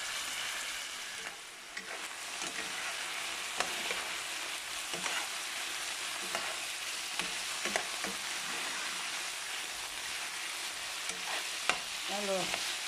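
Onions, garlic and spices frying with turkey in a pan crackle and sizzle steadily, with scattered scraping stirs of a utensil across the pan.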